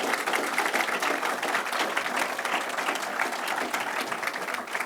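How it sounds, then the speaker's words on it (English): A groundbreaking crowd gives steady applause for Ellis and Katie Ivory, a dense, even clapping that lasts about five seconds with no voices over it. "Let's give a big hand for Ellis and Katie Ivory."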